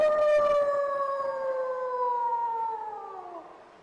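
A person mimicking a dog howling at night, one long sustained tonal howl that slowly falls in pitch and fades out, loud and close with no other sounds.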